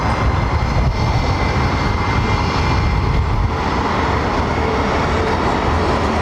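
Aircraft at London Heathrow Airport: a loud, continuous rumbling engine roar with broadband noise, steady throughout and close, with no talk.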